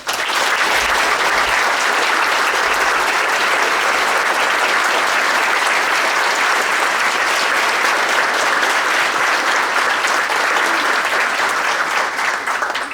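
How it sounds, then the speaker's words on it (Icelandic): A full audience claps for honored guests at a Danish-themed cultural evening in Árborg, Iceland, loud sustained applause from a large crowd holding steady for about thirteen seconds with no voices over it. "Við ætlum að biðja ykkur að gefa þeim gott klapp."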